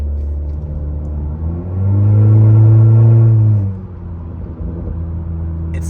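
An 11th-gen Honda Civic with no exhaust is floored to full throttle, a loud, raspy engine roar swelling for about two seconds, then dropping back to a low idle rumble.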